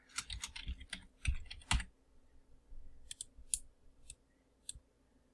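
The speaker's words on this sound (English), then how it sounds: "So first, we start by typing a word." A computer keyboard clicks under quick, irregular keystrokes, a burst of close taps, a pause, then a few more scattered presses in an otherwise quiet room.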